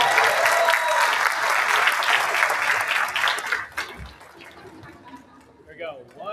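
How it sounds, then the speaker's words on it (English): An audience at a professional association event applauds a team with dense, loud clapping that fades out after about four seconds, followed by quieter room noise and voices speaking. "let's give them a round of applause"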